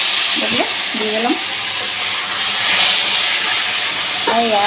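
Ginger paste with boiled potatoes and taro frying in a pan, a loud continuous hiss and sizzle close up, with a few brief tonal clatters of utensils.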